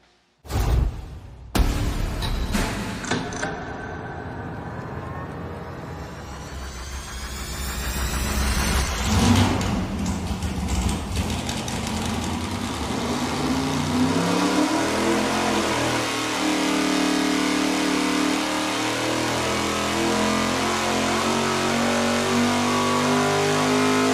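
V8 race engine on a dynamometer with tight exhaust valve lash and unchanged intake, starting with a few sharp bursts, then climbing through a long loud wide-open pull that holds steady at high revs.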